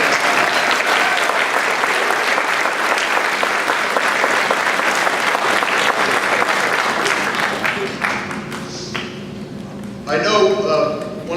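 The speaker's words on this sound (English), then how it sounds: "A round of applause for our amazing custodial staff here." An audience applauds for custodial staff at a school blue ribbon ceremony, a dense, steady roar of many hands clapping that thins out near the end as a few voices speak over it.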